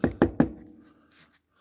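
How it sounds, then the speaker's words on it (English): Three sharp taps knock metal swarf off a die-cast Dinky Space 1999 Eagle model part, evenly spaced close together, followed by faint handling rustle. "So tap off the swarf"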